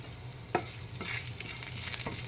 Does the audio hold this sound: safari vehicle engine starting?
no